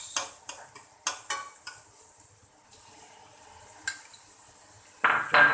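Tomatoes added to onions frying in a pan for a cottage cheese biryani, with a series of sharp spoon clinks and scrapes while stirring over a soft, steady sizzle, ending in a louder burst of frying.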